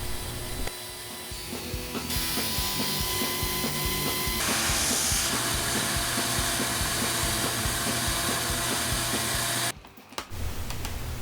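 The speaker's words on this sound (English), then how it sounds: "thank goodness for this sander" A power sander runs on walnut and cedar wood panels with a loud, steady buzzing whir, its pitch and grit changing as it works across the surface, then cuts out briefly near the end before starting again.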